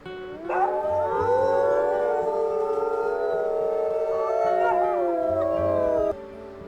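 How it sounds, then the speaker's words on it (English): A wolf howl from the video game WolfQuest, one long, loud, wavering howl with overlapping pitch-bending voices that rises sharply, holds for several seconds, then cuts off. "Let's maybe do a little howl"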